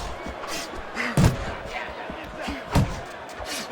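Punches thudding in the boxing game Fight Night Champion, two heavy impacts about a second and a half apart over a steady crowd murmur and a commentator's voice.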